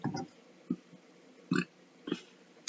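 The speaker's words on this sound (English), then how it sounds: "burped a little, sorry" A short burp from a woman during a tarot card reading, heard close and fairly loud among a few other small mouth and throat noises.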